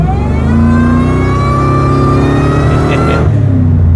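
A supercharged V8 in a Ford F-150 SVT Lightning pickup accelerates hard up close, its loud engine note climbing steadily in pitch for about three seconds before the throttle cuts off abruptly.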